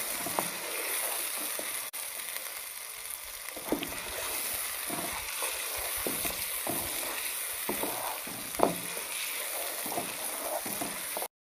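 Ginger, garlic and green chili paste sizzles and fries in hot oil with a steady crackling hiss and occasional stirring clatter, close and fairly quiet.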